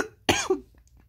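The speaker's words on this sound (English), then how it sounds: "even the coughing" A single sharp cough, close and fairly loud, followed by a short trailing breathy rasp, with quiet background before and after.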